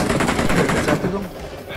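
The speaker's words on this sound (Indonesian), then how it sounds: "Heavy machine gun." A heavy machine gun fires in rapid bursts in the mobile game PUBG Mobile, a loud, steady stream of shots that thins out toward the end, with voices speaking over it.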